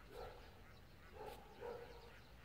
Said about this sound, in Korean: 강아지 소리만 들리나요?